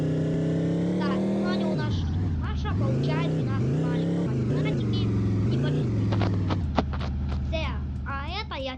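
A game car's engine in Chicken Gun drones and revs up and down in repeated swells, loud and close, while children talk over it.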